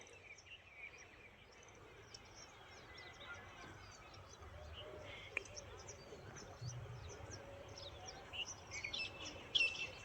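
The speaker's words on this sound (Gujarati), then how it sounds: "જો ચકલા ને બકલા જો સવારમાં બધા ઉઠી ગયા" Sparrows and other small birds chirp and tweet in the morning outdoors, scattered bright calls growing busier toward the end over a low background hum, with faint crickets and a voice speaking quietly.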